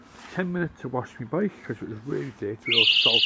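Someone talks steadily, then near the end a shrill, high electronic alarm tone starts up and keeps sounding close by as his voice continues.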